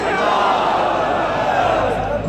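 A large crowd at a religious conference in Gujranwala, Pakistan, shouting a loud, sustained collective chant of the slogan Nara-e-Takbeer, the massed voices forming one dense roar for the whole stretch.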